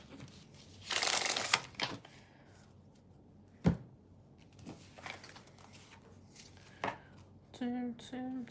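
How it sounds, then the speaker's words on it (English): Tarot cards being shuffled during a live reading: one loud, papery riffling burst near the start, followed by a few soft taps and card handling. A voice speaks briefly at the end. "let me just shuffle"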